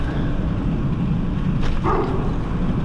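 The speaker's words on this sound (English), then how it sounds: "Woof woof." A dog barks once or twice outdoors near a building, a short distant-sounding bark rising briefly over steady wind and street noise.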